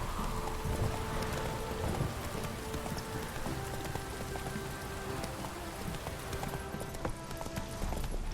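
Horse hooves clip-clopping at a steady walking rhythm in The Witcher 3, close and continuous under a dense wash of game ambience resembling rain, with no speech over it.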